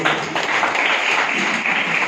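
An audience at a Hindi literary society's annual report meeting applauds to welcome Shri Mahendra Dev, a continuous, even roar of clapping from many hands, moderately close and loud.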